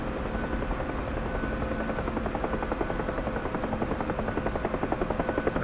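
A Kiowa helicopter in a flight simulator game comes in fast for a landing, its steady rotor thrum and engine whine filling the clip, with rhythmic blade pulses growing more pronounced toward the end; no talking.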